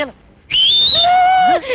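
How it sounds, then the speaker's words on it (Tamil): A person whistles a signal at a gathering: one long, loud, sustained high whistle that steps down to a lower held tone and ends with a short upward slide, following a brief spoken word. "சாமி விசில் அடிக்கிற"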